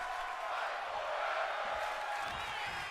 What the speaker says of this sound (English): This crowd is chanting fight forever.